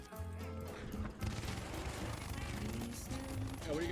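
Dense video game gunfire with many shots blending into a continuous rattle, steady and fairly loud throughout, with faint background tones.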